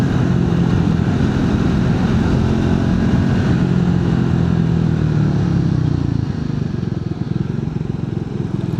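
A Triumph Speed 400 motorcycle cruises along with a loud, steady engine drone and constant road rumble close to the microphone, easing slightly in pitch toward the end.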